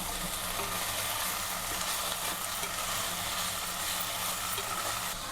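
Cumin seeds and tamarind fry in a pan while being stirred, giving a steady, close, dense sizzle with faint scraping underneath and no voices.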